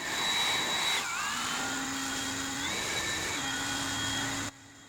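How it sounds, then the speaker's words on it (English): A Ryobi 40V brushless leaf blower whirs with a steady turbine whine that dips and rises as the variable speed trigger is eased and squeezed, close and continuous until it cuts off near the end. "You can hear how I adjust the trigger when using it."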